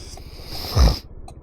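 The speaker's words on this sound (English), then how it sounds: "Sorry for sniffing, it's cold." A single quick, snuffly sniff near the middle, set against a steady windy hiss outdoors.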